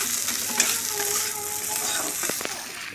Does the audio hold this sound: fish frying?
yes